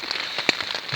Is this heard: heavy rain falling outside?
yes